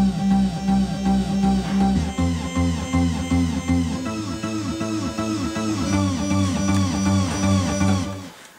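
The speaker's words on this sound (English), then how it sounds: "this special part of the polysonic synthesizer will be playing the main synth" A main synth part plays on a Thor polysonic synthesizer, a steady pulsing pattern of repeated chords and notes, moderately loud and continuous with no voices.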